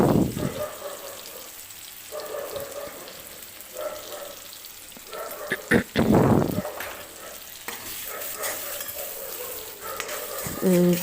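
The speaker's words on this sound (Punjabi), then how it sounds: "ਟਮਾਟਰਾਂ ਨੂੰ ਆਪਾਂ ਚੰਗੀ ਤਰ੍ਹਾਂ ਪਕਾ ਲੈਣੇ ਆ" Tomatoes with salt, chili, turmeric and garam masala cook in a pan, giving a steady sizzle with irregular stirring scrapes and a few sharper clatters throughout.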